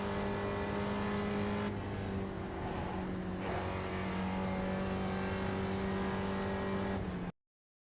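A race car engine in the iRacing simulator holds a strong, steady high-pitched drone with a brief shift in tone partway through, loud and continuous before cutting off abruptly.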